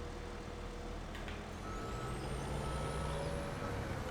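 A wheel loader in Farming Simulator 17 drones with a steady low engine hum while a reversing alarm beeps along beneath it, joined by a faint rising whine as the machine works.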